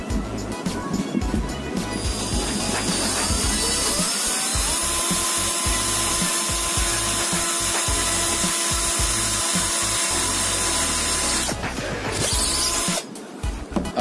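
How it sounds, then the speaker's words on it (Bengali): A cheap cordless drill bores into wood. Its motor whines at a steady pitch for several seconds among grinding bit and wood noise, then cuts off with a few handling clunks. "আমি ড্রিল করে দেখাচ্ছি"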